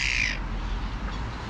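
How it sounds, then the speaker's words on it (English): Crows call at a feeding spot while picking up scattered peanuts, a short burst of harsh caws close by at the start that gives way to steady outdoor background noise. "There's the crows getting their peanuts."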